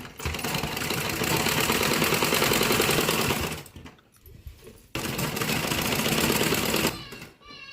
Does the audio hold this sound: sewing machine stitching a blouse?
yes